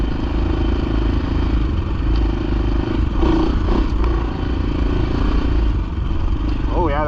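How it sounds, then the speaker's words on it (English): A 400 motorcycle engine-braking during a desert race, a loud continuous rumbling drone with clattering and scraping from the ride, close and steady throughout. "Oh yeah, that engine braking."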